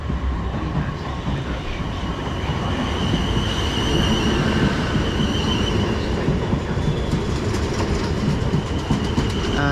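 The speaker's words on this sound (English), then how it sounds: "And in comes our train, which is" A South Western Railway class 450 electric train pulls into a station with a loud, steady rumble and rhythmic wheel clatter, plus faint squealing and whining near the end, close by.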